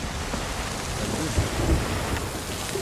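Thunderstorm and rain in the pirate video game Sea of Thieves, with dense, steady rainfall and low rumbling thunder that swells briefly near the middle, loud and enveloping, with no talk.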